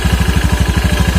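A motorcycle with a modified roller setup idles just after starting, giving a loud, close, rhythmic thumping that runs at an even, rapid pulse with no talk over it.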